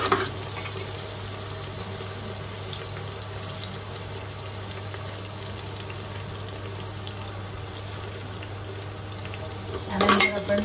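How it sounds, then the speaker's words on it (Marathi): Onion with ginger-garlic paste and fennel fries in a pan for mutton kheema, giving a low, continuous sizzle with a brief louder clatter near the end. "ह्याच्यात आपण टाकतो आहोत आलं लसूण पेस्ट"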